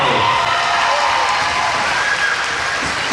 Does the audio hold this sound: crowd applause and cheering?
yes